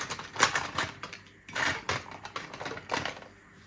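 A short run of clattering, clicking knocks as watercolor pencils are handled and pulled from their case, in uneven bursts.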